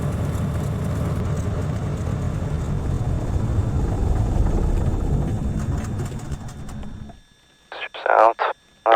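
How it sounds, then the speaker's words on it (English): A light aircraft's engine runs loud and steady at a remote Alaskan lake research station, then cuts out abruptly and falls silent, followed by a few short bursts of nearby talk. "Hold on whilst I turn off my plane."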